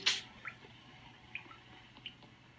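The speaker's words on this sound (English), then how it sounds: "Just hold this button and then fill up some water." Water gurgles and drips briefly during the fill-water task on the Polus map in Among Us, a short liquid burst at the start followed by faint scattered drips.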